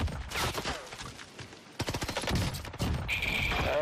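Long-range automatic gunfire in a Call of Duty match on Caldera: rapid bursts of shots crackling in quick succession, dense and fairly loud, with a brief lull before the firing resumes.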